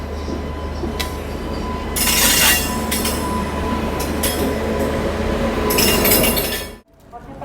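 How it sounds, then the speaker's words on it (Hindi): The Hazrat Nizamuddin–Mumbai August Kranti Rajdhani Express pulls out of Hazrat Nizamuddin station behind a WAP7 electric locomotive, a loud steady rumble of wheels and carriages with bursts of rattling and squeal before the noise cuts off abruptly. "4:55 पर हमारी CR राजधानी एक्सप्रेस निकल चुकी है हजरत निजामुद्दीन रेलवे स्टेशन से।"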